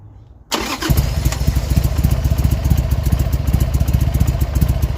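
Motorcycle engine starts after a quiet moment and catches right away, then settles into a loud, close, throbbing idle with a fast, even pulse and mechanical clatter.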